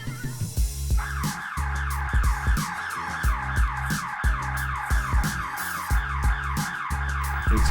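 A cheap DIY HomeKit security alarm siren wails in rapid repeating up-and-down sweeps, loud and near, cycling steadily for several seconds with a pulsing low electronic tone beneath.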